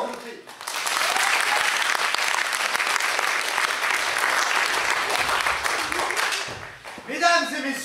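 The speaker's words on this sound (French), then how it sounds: "Applaudissements," A café-théâtre festival audience gives loud, sustained applause that swells quickly, holds for several seconds and then fades as a voice begins to speak.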